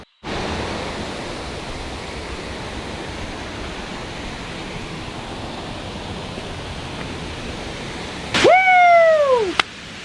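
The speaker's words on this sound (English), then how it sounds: "we definitely made it to, one of the most amazing waterfalls I've seen here in Jamaica" Steady broadband roar of the waterfall at Secret Falls in Jamaica, loud and constant, with a brief whistle-like tonal sweep near the end.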